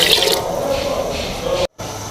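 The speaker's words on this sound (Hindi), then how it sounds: "पानी डाल दिया मैंने गोश्त को गलाने के लिए" Water pours into a pot of meat, tomato and onion for pressure-cooked aloo gosht, a steady splashing gush that cuts out briefly near the end and then resumes.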